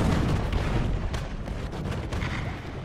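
An artillery strike in a World War II armored-vehicle video game tears down a building, a dense, continuous rumble of blasts and crumbling debris that stays loud throughout, with no voices over it.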